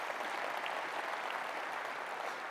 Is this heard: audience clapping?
yes